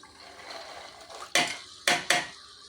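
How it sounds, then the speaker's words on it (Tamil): Field bean dal is stirred into masala in a pot: a soft scraping stir followed by three sharp, loud clanks of a spoon against the metal pot, close by and without talk. "இப்போ பிதுக்கம் பருப்பு போட்டு மொல்லமாக எல்லாம் மிக்ஸ் பண்ணிவிடுங்க."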